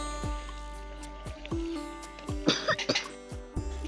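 A child coughs in a series of short, fairly quiet coughs spread through a few seconds, over a low steady hum, with a brief cluster of wetter throaty sounds partway through.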